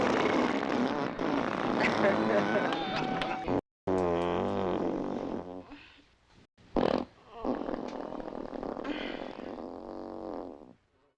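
Simulated fart sound effects from the 1983 comedy film Joysticks come in a rapid run of loud, buzzing blurts, mixed with film dialogue and music, and break off briefly a couple of times.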